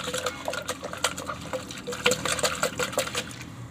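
Water being poured and swished inside a fish-keeping container as it is rinsed clean, with close irregular splashing and sloshing bursts continuing throughout.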